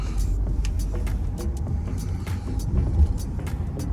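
A Chinese van with a sunroof driving in winter near the Great Wall, its steady road rumble and engine hum continuous and fairly close, with small clicks and knocks from the cabin.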